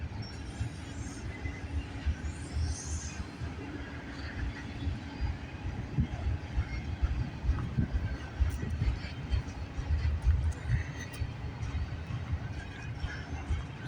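A CN freight train, number 149, rumbles past on the York Subdivision at Milepost 23 near Snider, a steady, loud, close roar of rolling cars and low engine noise sustained throughout, with no talk.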